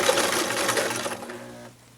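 A sewing machine stitches a fabric tube scarf, running in a steady close whir for under two seconds before stopping abruptly.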